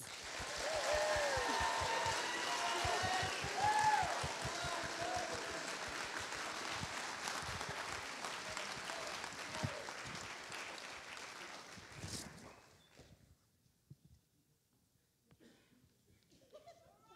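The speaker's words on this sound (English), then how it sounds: "So can we please give them a round of applause?" Audience applause at a luau show, loud sustained clapping mixed with some cheering that runs for about twelve seconds, then fades out to a few scattered claps and near silence.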